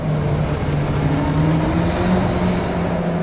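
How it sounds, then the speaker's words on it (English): Ariel Atom 3S sports car driven on winding back roads, its engine exhaust droning loud and continuous with a rising, slightly wavering pitch as it pulls, no voices over it. "the most intoxicating exhaust note this side of a V12"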